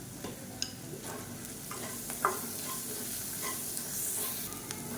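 Slices of raw plantain frying in oil until crisp, giving a continuous soft hiss and crackle with occasional light clicks and scrapes of a utensil, close by and without speech.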